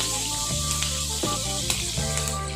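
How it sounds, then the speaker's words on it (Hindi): Chopped green chillies frying in hot oil for a cucumber curry, a steady loud sizzle with crackling pops, no speech over it. "अब इसमें मैं 4 हरी मिर्च कटी हुई, अच्छे से फ्राई करूंगी।"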